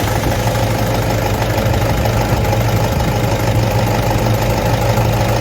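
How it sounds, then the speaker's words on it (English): A Toyota D4D diesel engine idling steadily after an idler pulley repair, a loud, continuous low rumble with a constant knocking pulse and no voices. "let's start our engine and let's see if that's going to fix our whining noise problem"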